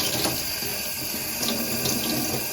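Cool tap water runs steadily from a faucet into a sink to rinse freshly kettle-dyed merino yarn, a continuous close splashing hiss with no voices.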